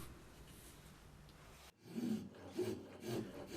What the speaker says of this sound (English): With the rat's tail file, it really doesn't take much to rough it down to the edge of the line.